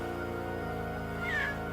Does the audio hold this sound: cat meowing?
yes